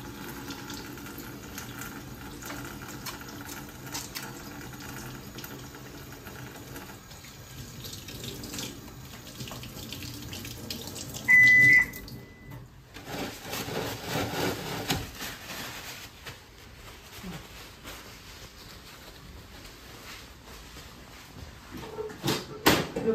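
A tap runs into a sink as hands are washed with water and soap before a Baxter Claria cycler is set up, with steady splashing, a brief high squeak midway, then rubbing and dripping.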